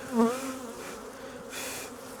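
Honey bees buzz steadily nearby at an open hive, a droning hum that swells briefly at the start and again near the end, with no voices.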